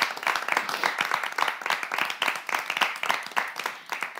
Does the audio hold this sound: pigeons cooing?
no